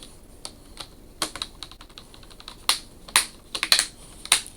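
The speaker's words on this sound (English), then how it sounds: "This basically just snaps right back into place." Plastic screen trim on an Asus X55A laptop being pressed into place, a series of small sharp clicks and snaps at irregular intervals, close and fairly crisp with no voices.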